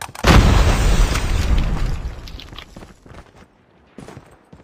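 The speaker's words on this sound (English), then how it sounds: "Watch out! Grenade!" A loud grenade blast in the Call of Duty Mobile game booms up front, rumbling and crackling as it decays over a few seconds, with a faint pop afterward.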